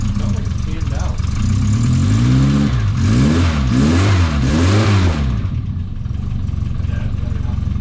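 A 1973 MG Midget engine revs up and down in several rising-and-falling swells, loud and close, then settles back toward an idle.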